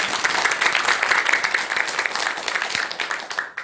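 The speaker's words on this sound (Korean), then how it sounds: "큰 박수 한번 주시기 바랍니다" A large audience at a Buddhist monk's lecture breaks into loud applause, many hands clapping in a thick, even burst that holds for a few seconds and then fades out at the end.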